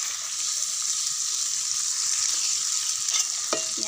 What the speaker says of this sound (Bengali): তেলেতে এই পেঁয়াজ কুচিগুলো দিয়ে দেব।